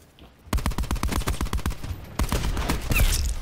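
Rapid automatic gunfire in the shooter video game Call of Duty: Black Ops 4, loud, dense bursts of shots in quick rhythm, pausing briefly before another sustained volley.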